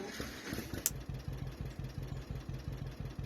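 An old farm tractor engine, started with a jump box hooked to its battery, catches and settles into a steady, rhythmic low chugging idle, close by after a brief clank at the start.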